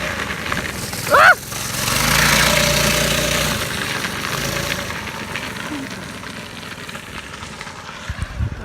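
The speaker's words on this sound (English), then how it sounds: "this engine is governed. It is not modded or anything. This is factory Predator 212." The factory, governed Predator 212 engine on a drift trike drones steadily at middling loudness, rising briefly and then settling into an even hum that fades toward the end, with a short sharp squeal near the start.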